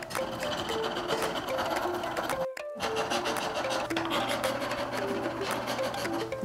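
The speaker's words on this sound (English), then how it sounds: "There's just a few spots I need to get with this grout removal tool." A hand grout removal tool scrapes grout out from between floor tiles in a steady, rasping rhythm, close up and continuous apart from one brief pause.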